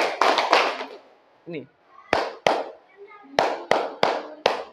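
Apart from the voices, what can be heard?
children clapping in a counted rhythm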